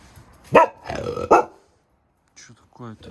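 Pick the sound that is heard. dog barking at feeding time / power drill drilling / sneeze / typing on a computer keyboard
dog barking at feeding time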